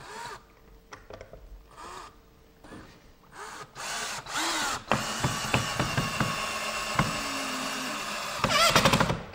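Screws are driven through pocket holes into wood trim with a Kreg-style power drill, in short close whirring bursts and then longer, louder runs with clicks and knocks between them.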